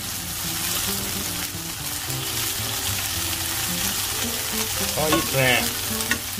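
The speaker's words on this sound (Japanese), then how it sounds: "しめじにちょっと焼き色がつくぐらいの感じでね、両面焼いていきます。" Shimeji mushrooms and shishito peppers sear in a pan with a constant close sizzle. A few light utensil clinks and shifts break in near the end, and a person says something briefly over the frying.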